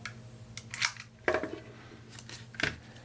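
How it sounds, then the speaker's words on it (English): A Japanese-made knife slices open product packaging, giving a few short scraping, crackling cuts close up, spaced about a second apart, over a faint steady hum in a quiet room. "let's open it with my really nice new Japanese made knife"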